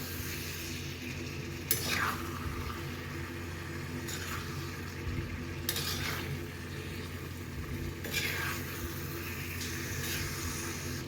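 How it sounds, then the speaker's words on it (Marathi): Chicken liver fry with chili powder and coriander being sautéed, a soft, low sizzle with a few distinct scraping stirs at intervals, fairly quiet. "पुन्हा एकदा परतून घेऊया"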